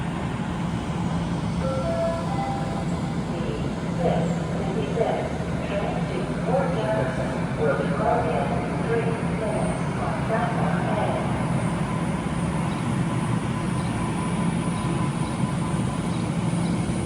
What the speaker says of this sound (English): 1568 is arriving Huntington at 6:58